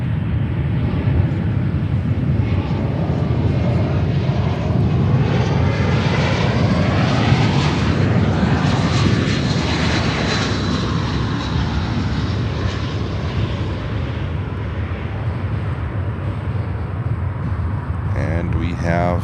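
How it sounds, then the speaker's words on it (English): A United Boeing 787-10 comes in to land at Chicago O'Hare. The engines give a loud, rushing roar that peaks and then slowly recedes, and a voice talks at times over it. "Let's see if we can catch the United 787-10 before she will be touching down."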